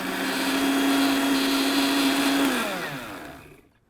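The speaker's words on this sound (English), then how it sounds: "the ingredients in our pan is ready to go into the blender so we can start blending the marinade." A blender purees a warm, steaming chicken burger marinade with lemongrass, whirring loudly and steadily for a couple of seconds before winding down to silence.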